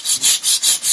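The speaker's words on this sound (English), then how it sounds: "we're just giving them a good scrub" Mossy old stone is scrubbed with a brush and stone bleach cleaner in rapid back-and-forth strokes, five close, loud, rasping swishes in a steady rhythm, with nothing else heard.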